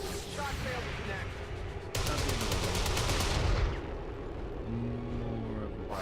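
Gunfire in XCOM 2: War of the Chosen, a burst of rapid shots with a sharp onset, heavy and fairly loud over game ambience and music, fading after a few seconds.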